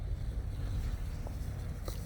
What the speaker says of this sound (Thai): ดูเรือสินค้าใหญ่มาก เรือลำใหญ่มากเลย